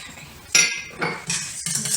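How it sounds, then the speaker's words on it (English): A utensil clinks against a bowl while water and maple syrup are stirred together, with several bright metallic taps and scrapes in an irregular rhythm, close and clear. "Just kind of mix that together good."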